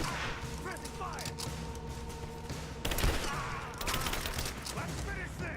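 Sustained gunfire from a firefight in Rise of the Tomb Raider, with bursts and single shots layered over a busy combat background, growing louder partway through, while voices shout over it.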